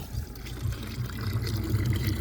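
Water splashes and trickles steadily as it is poured, a continuous low gurgling wash with no voices.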